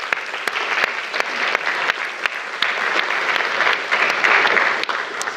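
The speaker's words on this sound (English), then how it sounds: "So a big round of applause for the work the team's done." Audience applause after a keynote speech at the CRESTCon Europe 2024 security conference, a dense steady patter of many hands clapping in a hall, fairly loud and sustained without a break.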